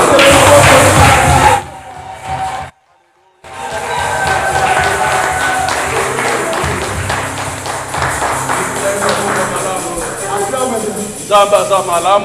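A church congregation in worship, cheering and acclaiming loudly as a crowd, with a brief drop to silence before the sustained noise resumes; voices and music blend throughout.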